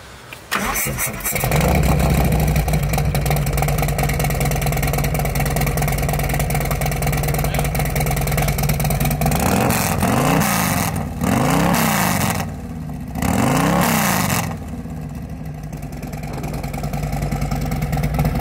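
A Harley-Davidson Street Glide Special fitted with a big bore kit starts up loud and close, settles into a rumbling idle, then gets several sharp throttle blips that rise and fall before it returns to idle.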